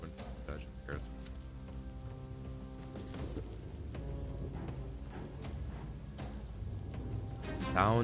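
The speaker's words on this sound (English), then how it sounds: "Sound of thunder." Steady rain from a video game hisses throughout, with a low rumble of thunder building toward the end, while a voice talks over it.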